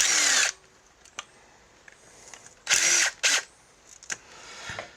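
A power tool loosens the eight millimeter clutch cover bolts on a Vulcan Classic 1500 motorcycle in three short, loud whirring bursts, with faint metallic clicks and handling noises between them.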